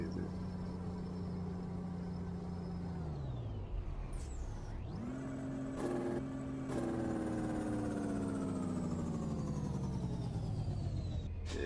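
Truck engine in Euro Truck Simulator 2, droning steadily, then revs drop and climb again through a gear change, with a hiss like an air brake, settling into a higher hum.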